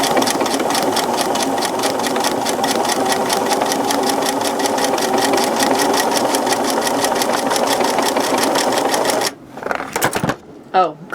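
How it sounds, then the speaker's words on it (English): A sewing machine stitches a dog bed in a fast, even mechanical chatter that runs close and loud for about nine seconds before stopping, followed by a few short handling noises. "Let's sew up Maverick's bed."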